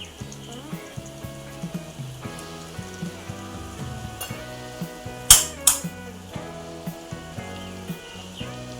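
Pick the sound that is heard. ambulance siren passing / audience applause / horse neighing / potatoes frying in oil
potatoes frying in oil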